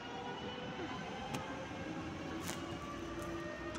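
A PESA Impuls 2 electric train pulls out of Sopot station, a low, steady rolling rumble and hum heard from the platform at moderate distance, with faint squeaks and brief bursts of higher noise.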